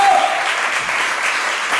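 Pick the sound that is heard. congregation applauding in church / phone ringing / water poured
congregation applauding in church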